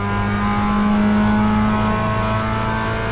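A Porsche race car on track at Road America holds a steady, loud engine drone at nearly constant pitch, heard continuously from close by with no talk.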